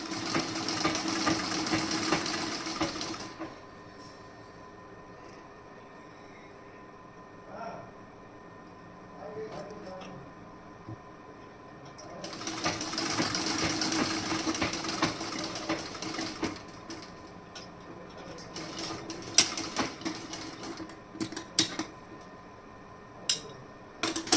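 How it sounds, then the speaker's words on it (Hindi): Sewing machine stitching piping onto fabric pieces, with two long bursts of steady rapid whirring separated by a quieter pause, then small clicks and handling noises; someone speaks over parts of it. "इसी तरीके से आप सारा पाइपिंग वाला टुकड़ा स्टिचिंग में रेडी कर देंगे।"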